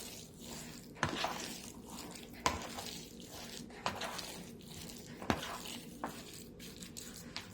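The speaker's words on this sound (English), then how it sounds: "It's a lot of stirring." A spoon works through stiff gluten-free oatmeal cookie dough in a bowl, making quiet, rhythmic scraping strokes about every second and a half, with no talking.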